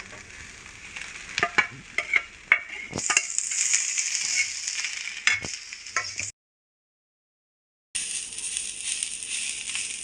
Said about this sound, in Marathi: कांदा आणि खोबरा चांगला भाजून घ्यायचा